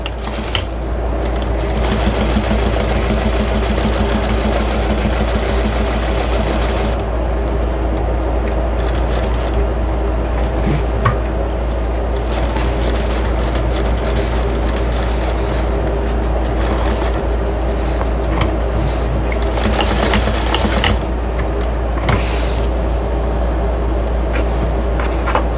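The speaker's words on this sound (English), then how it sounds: "Back stitching very well at the beginning and the end." A sewing machine stitches a fabric chicken-shaped potholder with backstitching at the start and end, running as a steady close whir for most of the stretch with a few brief pauses and changes in pace.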